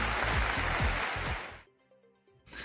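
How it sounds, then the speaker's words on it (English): A brief burst of clapping applause used as a sound effect, a dense wash of many hands close up for about a second and a half before cutting off to near silence. "A commercial clap from the EV Café."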